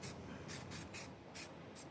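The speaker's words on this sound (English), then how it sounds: "So we're gonna spray this stuff." Aerosol can of adhesive promoter sprayed in several short hissing bursts of about a third of a second each, close and fairly quiet, with brief pauses between them and no talking.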